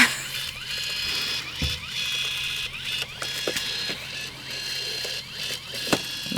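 A MUNBYN thermal label printer feeds out a run of labels, giving a steady mechanical whir with repeated ratcheting clicks and a few sharper knocks, fairly close and continuous with no talk over it.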